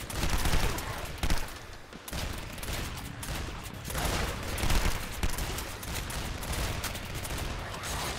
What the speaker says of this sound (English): you keep shooting that shotgun